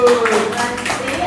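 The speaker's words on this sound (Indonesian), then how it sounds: "Oke, tepuk tangan dulu." A group claps hands together in a brief, dense burst of applause in a classroom, close and fairly loud.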